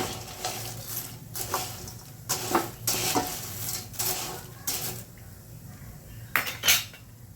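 Corn chivda being stirred with grated coconut in a pan, a spoon scraping and clinking against the metal in repeated close strokes, with a faint sizzle underneath and no talking.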